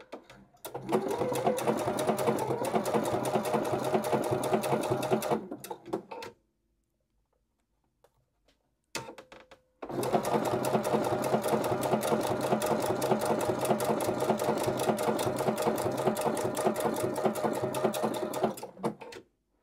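A sewing machine stitches English paper pieced quilt patches in two long runs of steady rapid needle clatter, separated by a silent pause of several seconds and a brief restart.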